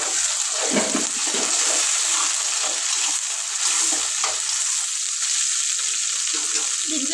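Onion and tomato frying in hot oil in a pan for a stuffed brinjal curry, a loud continuous sizzle with stirring scrapes running throughout.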